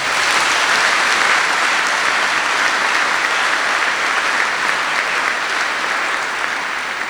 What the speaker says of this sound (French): Je voudrais qu'on applaudisse les catéchistes.